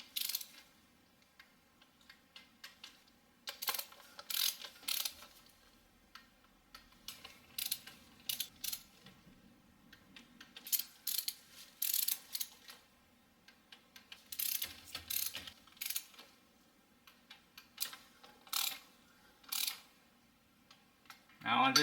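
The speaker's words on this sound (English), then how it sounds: "I'm gonna torque it down to about 35 pounds first in the torque sequence" A torque wrench ratchets on the valve cover bolts of a 2007 Toyota Highlander Hybrid, producing bursts of crisp, close mechanical clicks that repeat in short runs with quiet gaps between them.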